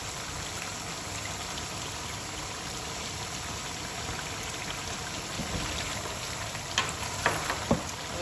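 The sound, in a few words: spices frying together in pan for Ghana jollof rice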